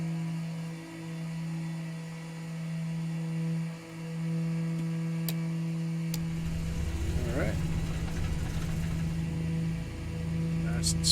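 The left engine of a DC-3 runs in Microsoft Flight Simulator 2020, a steady low hum that deepens and roughens partway through as it settles into a rumbling idle. Occasional clicks sound over it, and a voice talks briefly.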